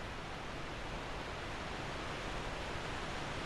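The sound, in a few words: waterfall in video game Dark Souls II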